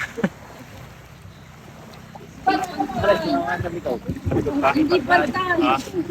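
Large boat departing on Taal Lake, its engine droning low and steady beneath water and wind noise, while several people talk loudly nearby.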